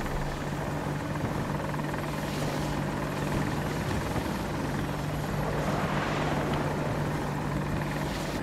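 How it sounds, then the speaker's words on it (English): An attack helicopter in the shooter game Battlefield 2042 drones loud and close with a steady rotor hum, constant throughout, no talk. "I'm gonna try to get a chopper"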